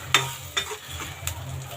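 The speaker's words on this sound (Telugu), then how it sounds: "చూడండి, మనకు మసాలా అయితే వేగుతుంది కదా." Masala puree for a fish curry sizzles gently in hot oil in a pan, with three sharp scrapes of a spoon stirring it over the soft, steady frying.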